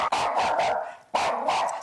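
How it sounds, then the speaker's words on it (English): A dog indoors at home barks twice in quick, sharp bursts, close and loud, each bark ringing briefly before a short gap. "The dog's barking all the time."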